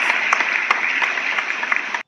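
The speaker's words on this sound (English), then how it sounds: "Give Chloe a big round of applause." A talent show audience gives a big round of applause for a performer, the clapping dense and even for about two seconds before cutting off abruptly.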